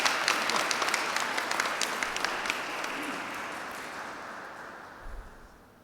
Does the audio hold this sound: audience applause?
yes